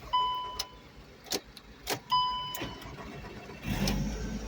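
A VW Beetle with a faulty instrument cluster chimes with a few short beeps, clicks and knocks while cranking, then the engine catches and settles into a low running rumble near the end.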